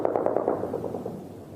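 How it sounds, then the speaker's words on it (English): Occasional gunfire during the takeover of a capital: a fast burst of sharp reports in the first half second, then a smeared, echoing rumble of further shots that fades over the rest of the moment. "Occasional gunfire ripped through the air."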